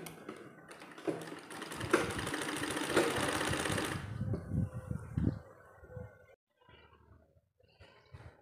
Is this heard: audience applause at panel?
no